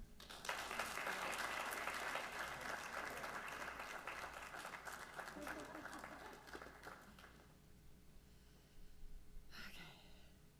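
A ceremony audience honoring retiring faculty gives sustained applause, thick and steady at first, then thinning and fading after about seven seconds, with a short burst of clapping near the end.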